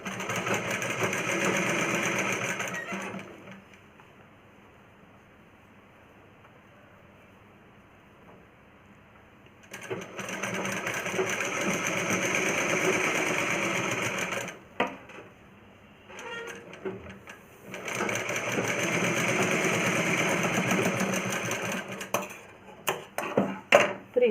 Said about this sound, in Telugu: స్టిచ్చింగ్ రెండు ఇట్లా ఈక్వల్గా పట్టుకొని స్టిచ్ చేయాలి.